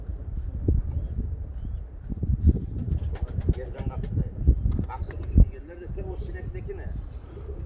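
Pigeons coo softly in low repeated bursts against a steady outdoor background, with a few faint chirps and people talking quietly nearby.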